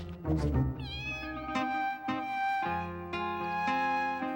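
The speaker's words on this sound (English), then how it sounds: "I must leave Pablito the cat here." A cat in a 1991 animated Madeline TV special meows several times, a drawn-out call followed by a series of short tonal meows, clear and alone.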